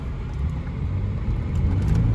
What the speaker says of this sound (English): let's do a quick acceleration